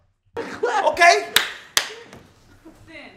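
Clapping from a person, a few sharp, loud hand claps mixed in with excited voices talking and shouting nearby.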